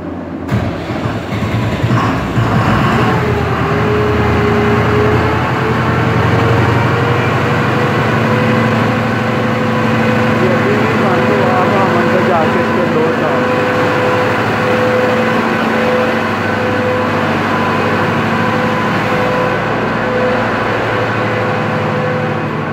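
A diesel generator engine runs loudly and steadily nearby after a fault is cleared, a constant mechanical drone with a rising whine that settles into a sustained hum.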